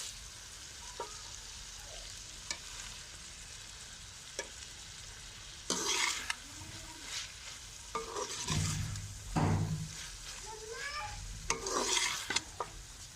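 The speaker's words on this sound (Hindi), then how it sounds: "अब हम इसमें फ्राई की हुई भिंडी ऐड कर देंगे" Fried okra is stirred into chicken cooking in a pot for bhindi gosht, a low steady sizzle broken by louder scraping stirs and spoon clinks in the second half.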